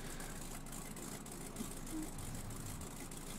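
A truck engine in the Spintires off-road driving game holds a steady, low idling rumble throughout, close and even, with no one talking.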